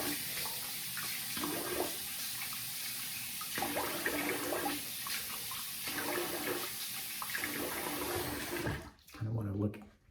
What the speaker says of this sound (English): No, I'm gonna rinse the face here.